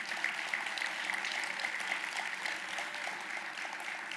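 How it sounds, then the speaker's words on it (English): Guests at the 2023 UNCF Mayor's Luncheon in Cleveland give a round of applause for the event sponsors, a steady, moderately distant rush of clapping from a large room, lasting about four seconds with no talking. "Let's give them a round of applause for our sponsors."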